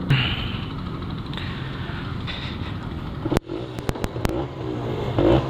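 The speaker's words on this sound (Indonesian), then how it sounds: "Sambil jalan nih gue habis isi bensin" Kawasaki Ninja 150 RR motorcycle being ridden just after refueling, a continuous engine drone mixed with wind buffeting and a few sharp clattering knocks, close and fairly loud throughout.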